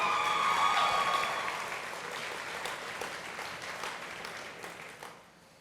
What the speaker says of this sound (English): Stand up real quick so we can all give you a nice warm round of applause